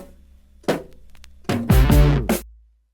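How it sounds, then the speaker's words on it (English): Sampled song used for a hip-hop track with an added kick drum reinforcing the sample's kicks: a short burst of chopped, distorted musical sample with heavy low thumps, ending abruptly. "So every time a kick hits in the sample, there's also a kick added by myself"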